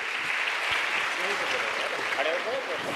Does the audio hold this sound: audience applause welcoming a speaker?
yes